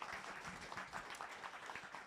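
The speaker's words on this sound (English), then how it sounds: "Can we give a warm round of applause for WriteSea?" A faint, brief burst of clapping from an audience at a Startup World Cup regional pitch event, soft and distant-sounding, lasting about two seconds.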